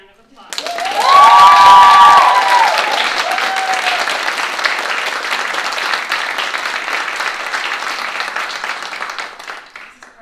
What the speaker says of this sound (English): Can we give Lucy another round of applause?